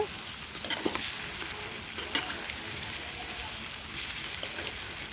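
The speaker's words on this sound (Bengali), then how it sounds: "এখন মাছগুলাকে দিয়ে আমি একটু ভালো করে মশলার সাথে কষিয়ে নিব।" Tilapia fish pieces are stir-fried with spices in a pan, giving a steady, close sizzle and crackle of oil with intermittent scraping stirs throughout.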